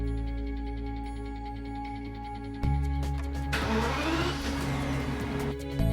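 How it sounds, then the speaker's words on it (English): A BMW 7 Series E65 engine turns over and fires up partway through, settling into a steady, close idle after a brief rise in revs, with a faint electrical hum beneath before the start. "Start the vehicle and run the engine for at least 2 minutes."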